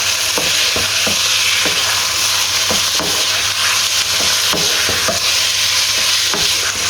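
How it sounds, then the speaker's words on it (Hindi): Marinated chicken stirred in a non-stick kadai while cooking for chicken fajita rice, giving a loud, constant sizzle punctuated by regular scraping strokes of the spatula, close up with no voices. "अब इसके अंदर ये चिकन ऐड करना है जो हमने मैरिनेट किया था। इसको एक बार मिक्स करते हैं।"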